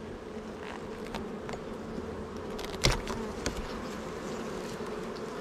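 Honey bees buzzing around an open hive during a visit to a honey production site, a dense continuous drone close by with a few louder passes of individual bees.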